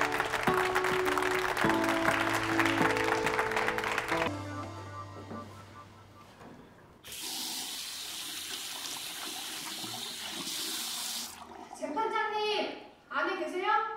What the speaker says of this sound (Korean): 다들 큰 박수로 인사 한번 드리세요